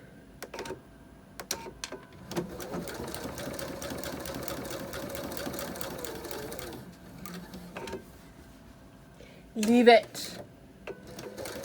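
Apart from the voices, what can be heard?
sewing machine stitching elastic on pencil holder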